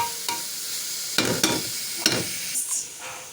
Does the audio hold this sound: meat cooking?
yes